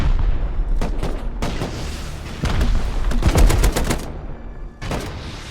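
Bursts of automated turret gunfire in the survival game Rust, loud and close, rattle in rapid clusters separated by brief pauses, with heavy booming impacts mixed in.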